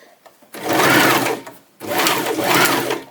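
Sewing machine stitching bias tape along a garment neckline, two loud sustained runs of rapid whirring stitches separated by a brief pause.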